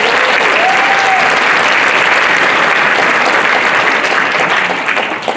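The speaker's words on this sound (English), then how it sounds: "Let's give that a round of applause." Loud, dense applause from the audience at a high school winter orchestra and jazz band concert, a sustained wall of clapping that holds steady and tapers slightly at the end.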